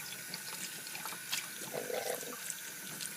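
Cold water runs steadily from a tap into a sink while a baseball hat is washed with shampoo, a soft continuous splash with a brief voice speaking over it near the start.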